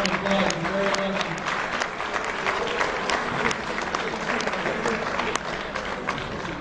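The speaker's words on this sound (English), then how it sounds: "Kids, give the coaches a round of applause" A room full of kids and adults claps for their sports coaches, sustained dense applause lasting several seconds with scattered louder claps and some voices underneath.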